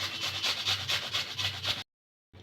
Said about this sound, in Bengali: তো পেঁয়াজটা আমি এইভাবে ঘষে নিচ্ছি